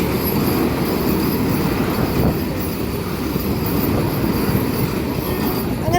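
A Vande Bharat train arrives at a railway station in a loud, continuous rumble of wheels on rails with some squealing, close by, and faint voices in the background.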